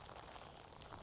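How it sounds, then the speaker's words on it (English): Steady rain patters on the ground outdoors at a metal-detecting site by a manor house in Wales, a dense, even hiss of drops that continues throughout. "This is starting to rain quite a lot."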